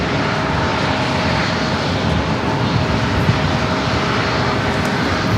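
An American Airlines Airbus A321 jet arriving from Dallas Fort Worth at San Diego airport, a loud, close, continuous engine roar with a faint steady tone, holding evenly for a few seconds, heard alone.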